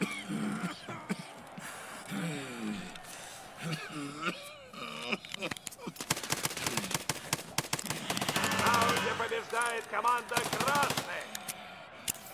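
Automatic and single gunfire crackles in the Escape from Tarkov Arena video game, with dense bursts of rapid shots in the second half, under a player talking excitedly throughout.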